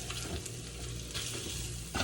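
Sinangag, Filipino garlic fried rice, sizzles in a pan while being stirred, a steady close frying hiss with scraping stir strokes, short and quiet, no speech.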